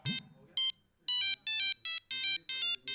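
An incoming call's telephone ringtone chirps in repeated short electronic bursts of rising, pulsing tones with brief gaps, loud and close, with no talking over it.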